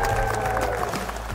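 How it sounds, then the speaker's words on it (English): A crowd at a Burnley FC community event cheers and applauds for a newly announced community captain, a continuous dense wash of noise with faint tonal hum underneath. "Can we have a big cheer"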